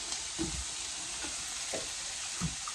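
Potatoes go into a pan of frying pepper and onion, setting off a soft, steady sizzle with a few light knocks from stirring.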